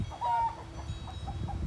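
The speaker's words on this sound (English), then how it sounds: "Chicken apparently just had a moment." Chickens in a shed let out a burst of loud clucking and squawking, one sharp cry followed by scattered softer clucks from the flock nearby.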